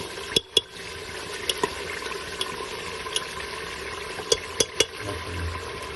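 Beef keema with peas and yogurt sizzles wetly in a pan, a steady soft bubbling broken by several sharp clicks and taps.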